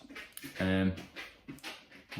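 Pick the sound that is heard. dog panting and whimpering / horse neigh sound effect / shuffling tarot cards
dog panting and whimpering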